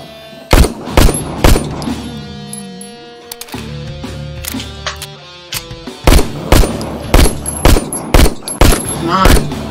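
Gunfire in a shooter video game: loud bursts of rapid shots and single cracks, a brief quieter stretch with a voice, then dense repeated firing again, close and punchy.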